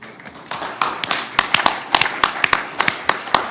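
Scattered applause from a small group at a county board meeting, right after a motion carries; about three seconds of uneven, sharp hand claps at close range, with a few distinct louder claps standing out and no talking over them.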